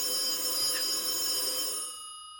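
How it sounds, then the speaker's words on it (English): A telephone rings repeatedly in another room, a steady electronic bell tone that sounds slightly muffled and continuous before cutting off near the end. "Oh, there's our phone. That's our important person phone in the other room."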